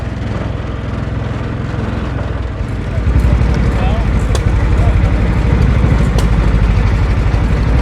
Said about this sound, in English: All kinds of beautiful engines here on this showgrounds.